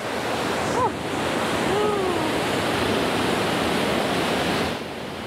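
A mountain river near Bergen, Norway, rushes in a broad, continuous roar of flowing water, loud and close, with a faint bird call briefly audible over the steady noise.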